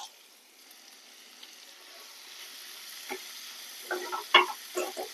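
Food frying in oil left over from frying dried fish for a mango curry, a soft sizzle building slowly, then a few sharp crackles and spits near the end, close and fairly quiet.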